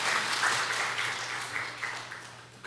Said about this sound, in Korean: 환영에 한번 박수 한번 보내주세요.